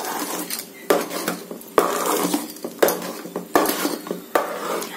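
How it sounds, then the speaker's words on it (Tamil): A spoon scrapes and clanks repeatedly against a pot as ragi flour is stirred in to make ragi kali, with sharp regular knocks over a steady scraping, close and clear with no talk. "ராகி மாவு தான் ஆட் பண்றாங்க"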